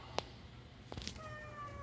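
A rescued cat gives one short, clear meow early on, followed by a couple of fainter mews, in a quiet indoor room with a soft tonal hum in the background.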